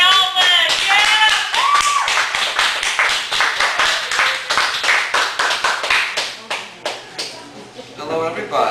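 A small audience at a Chicago cafe poetry feature claps for a poet, with close, distinct handclaps thinning out toward the end and excited voices and cheers mixed in early on.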